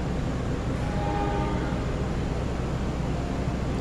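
The Taksaka executive train arrives at Purwokerto station, a steady low rumble filling the platform with a brief tonal horn-like note rising over the continuous noise.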